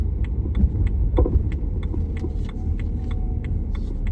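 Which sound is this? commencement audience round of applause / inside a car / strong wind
inside a car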